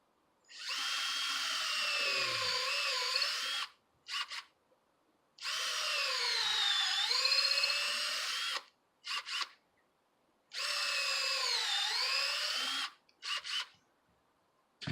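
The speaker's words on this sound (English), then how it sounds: "Let me go drill the other one on the other side." Power drill boring a sap tap hole into a tree, three sustained whirring bursts of several seconds each, separated by short pauses and brief stops, close and loud.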